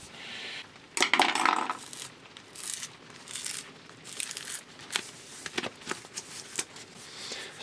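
Lead sheeting being peeled and torn away from the high-voltage X-ray tube assembly of a micro-CT scanner, a burst of crinkling and tearing followed by scattered softer crackles and clinks, close and moderately quiet.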